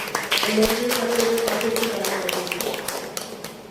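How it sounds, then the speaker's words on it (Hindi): An audience claps for a music composer in a hall, a scattered patter of hands that stays fairly light and steady, with a voice talking over it. "तो सर के लिए प्लीज तालियां बजाना"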